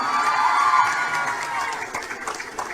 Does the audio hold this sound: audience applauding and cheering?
yes